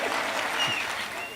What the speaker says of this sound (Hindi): जितना अच्छा शेर था उतनी ताली तो बजी नहीं।